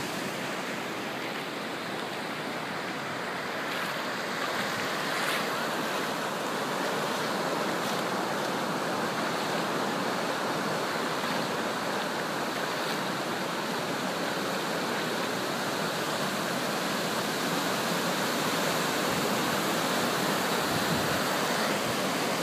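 Beach waves at low tide: a steady, broad wash of surf noise that stays even and unbroken throughout, with no distinct individual breakers and no talking.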